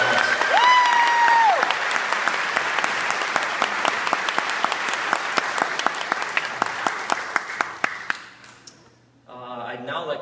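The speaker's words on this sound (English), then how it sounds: "So please give everyone a great round of applause." A large crowd applauds loudly at a marching band event at Ford Field, with dense steady clapping and some cheering that carries on for several seconds before fading and thinning out near the end.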